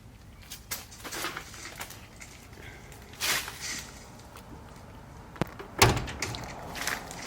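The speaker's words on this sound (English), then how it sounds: "you can tell by the way that door sounds when I close it that it's a really heavy and well-made car" Some quiet handling noises, then a heavy car door swings shut with a deep, solid thud, followed by faint rustling.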